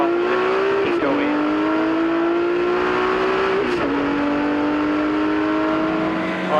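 A 1979 Porsche 935 race car engine drones loud and close, its pitch climbing through each gear with brief drops at upshifts, under a commentator's voice during a race.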